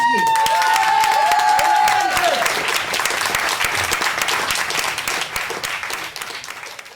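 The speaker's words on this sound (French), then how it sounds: "je vous demande d'applaudir très fort Sophie et Xavier." Loud applause from a theatre audience at a Lille stage show, with dense clapping and some cheering that tapers gradually. A voice sounds briefly at the start.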